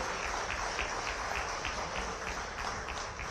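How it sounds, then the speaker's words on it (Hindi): Loud, continuous applause from a large audience at an indoor gathering, a dense wash of clapping holding steady for a few seconds with faint voices beneath. "जोरदार ताली बजाओ"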